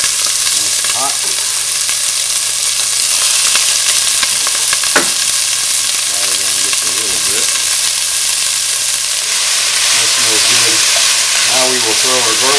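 Vegetables frying in a pot as the base for white chicken chili, a steady loud sizzle and hiss running throughout with occasional stirring scrapes, while a person talks intermittently over it.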